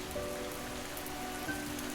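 Rain falls in a faint, steady hiss with no other sounds.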